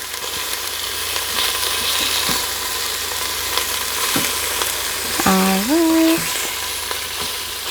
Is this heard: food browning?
yes